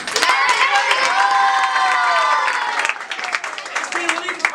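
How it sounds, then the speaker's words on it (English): An English role-play class gives an encouraging round of applause for the man playing the new company president, with clapping blended into steady cheering and shouting voices that stay loud, then thin slightly toward the end. "maybe have an encouraging clap for this man"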